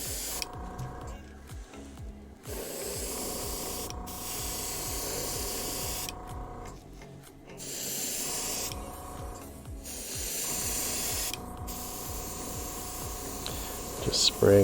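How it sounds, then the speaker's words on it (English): An airbrush blows air onto a freshly painted shad fishing lure, producing a steady hiss in several bursts with short pauses between them, close and fairly loud. "Just spraying some extra air on there just to help it dry a little bit."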